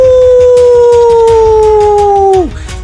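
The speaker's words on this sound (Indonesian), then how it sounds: "Dia melonglong panjang seperti serigala malam." A long, loud wolf-like howl of pain holds steady and drops sharply at the end, over a rhythmic pulsing backing.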